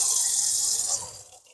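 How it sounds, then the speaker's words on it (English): A tap runs into a sink as water is turned on for felting angora, a bright steady hiss that fades toward the end. "So I'm going to turn on the water"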